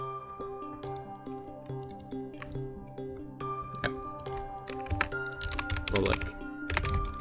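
Fast typing on a computer keyboard, recorded close, with a steady patter of key clicks and a few louder strikes near the end. Someone talks over it.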